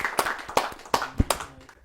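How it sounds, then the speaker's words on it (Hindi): Scattered hand claps at a kavi sammelan poetry gathering: a handful of distinct, separate claps in a slow, uneven rhythm, fairly faint and close, with no dense applause. "आइए जोरदार तालियों से उन्हें बुलाते हैं"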